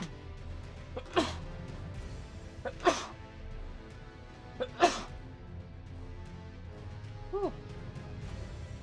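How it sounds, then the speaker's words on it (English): Several sharp human sneezes, three loud close bursts spaced about two seconds apart and then a softer vocal sound, set against a quiet indoor background while someone hangs out playing video games. "My goodness, that was a sneeze"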